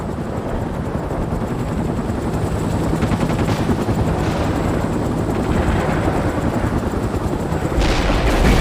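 A Mi-24 attack helicopter in the video game World in Conflict, its rotor drone loud and constant under dense, continuous machine-gun and cannon fire throughout.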